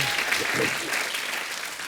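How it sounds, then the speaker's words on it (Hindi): A studio audience on a Hindi comedy talk show applauds loudly for guests Salman Khan and Katrina Kaif, a dense, steady wash of many hands clapping close by that carries through the whole stretch, with a faint voice underneath. "तो जोरदार तालियां सलमान भाई के लिए और कैटरीना मैम के लिए"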